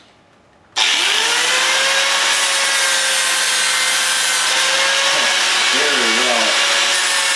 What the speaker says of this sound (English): So I've switched to a 60 grit flap disc.